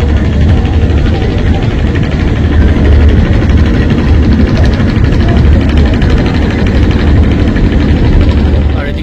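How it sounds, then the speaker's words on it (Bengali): A passenger launch, the Al Araf 7 from Lalmohan, pulls away from a busy river ghat, its heavy diesel engine a loud, steady low rumble with continuous vibration throughout. "এদিকে দেখতে পাচ্ছেন লালমোহনের আল আরাফ 7 লঞ্চ ছেড়ে দিছে"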